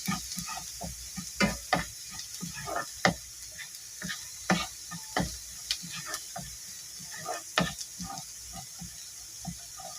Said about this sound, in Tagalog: So brown lang natin yung ating garlic para mas malasa at mabango.